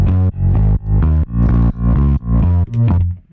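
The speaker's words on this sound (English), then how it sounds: "I'm gonna push it hard in the input. I want to have this distortion." A drum loop is driven hard through a compressor with input and output pushed for parallel compression, giving loud, gritty distorted hits in a steady rhythm of about six punches with no talking.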